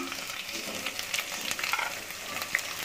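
Green garlic sizzles and fries in a pan while a Hindi-Urdu style white chana curry is cooked. A steady, close crackle runs throughout with a few brighter pops, and no one speaks.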